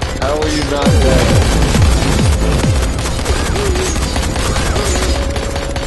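Gunfire in the zombie game Dying Light: The Following, a rapid burst of shots with descending whooshing tones over loud continuous game noise, followed by a steady din.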